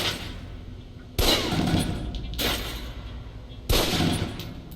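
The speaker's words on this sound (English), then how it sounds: "Equip the pistol, then aim down range and take some shots at the target" Pistol shots fired at a range target in the video game Alpha Protocol: three sharp cracks at uneven intervals, each with a short reverberant decay over a low ambient hum.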